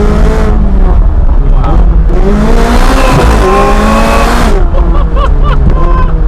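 A high-performance car with carbon-ceramic brakes accelerates hard, its engine note climbing through rising harmonics across several gears, loud and close throughout, with brief voice chatter mixed in near the end.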